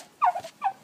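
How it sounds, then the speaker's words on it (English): A young turkey gobbles twice inside a polytunnel on a farm, two short, close, fairly loud calls with a brief gap between them. "It's a little turkey."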